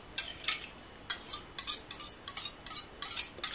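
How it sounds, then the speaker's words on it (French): A metal whisk clatters against a bowl while herb fromage frais is mixed, giving a close, irregular run of bright scraping taps in quick bursts with short pauses between them. "j'aurais pu mélanger avec une cuillère qui fait moins de bruit, mais j'avais un fouet"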